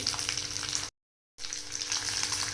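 Hyacinth beans sizzle loudly and steadily in hot oil in a pan, a dense close frying hiss that cuts out briefly and resumes.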